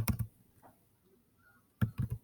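Typing on a computer keyboard: two quick bursts of a few close, crisp keystrokes, separated by a quiet pause in a calm room.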